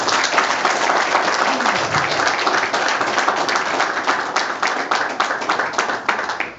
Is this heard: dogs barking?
no